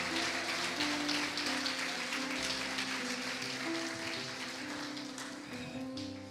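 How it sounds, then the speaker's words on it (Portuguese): A church congregation applauding together, a dense, sustained wash of clapping that holds steady and slowly fades, with organ or keyboard chords sounding underneath. "Você pode dar um forte aplauso ao Senhor Jesus por isso?"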